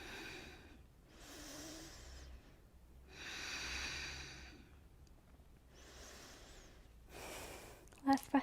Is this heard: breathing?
yes